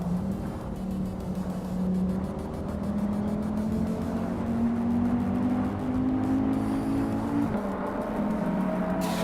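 A 1984 Audi Sport Quattro in a racing video game at Zolder drones with a steady engine note that climbs gradually through the gears, accompanied by a softer whir, continuous and moderately loud with no talk.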